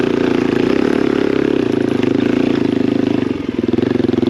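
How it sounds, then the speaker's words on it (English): A motorcycle engine labours up a steep, rocky mountain trail, a loud close throbbing drone with rapid pulsing beats that holds steady and dips slightly near the end. "they're making it hard to get the motorcycle up"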